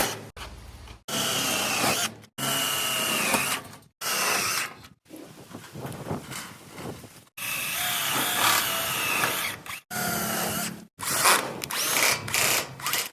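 A power drill driving screws into the metal sheet of a homemade Mahindra-style mini jeep, running in repeated loud bursts of whirring with short pauses between each screw.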